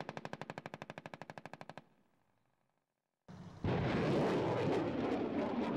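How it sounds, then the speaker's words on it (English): Automatic fire from a Bradley fighting vehicle's machine guns and 25 mm cannon: a loud, rapid, evenly spaced burst of about twenty rounds, a short pause, then a heavy roaring barrage of continuous firing. "the firepower the Bradley carries, the machine guns, the 25 millimeter, provides great capability to do that"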